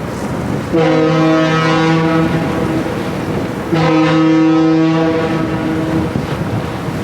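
Two long, deep foghorn blasts from a ship at the Golden Gate, each lasting about three seconds, loud and resonant over steady wind noise.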